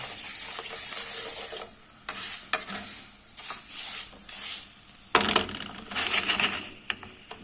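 Noisy hissing sizzle of vermicelli frying in a hot pan with stirring scrapes and clatter, loud and close, in bursts with short quieter gaps.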